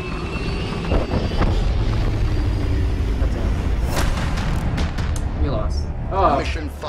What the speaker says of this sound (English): C4 detonated! Objective destroyed!